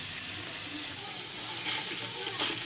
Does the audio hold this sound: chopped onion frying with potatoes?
yes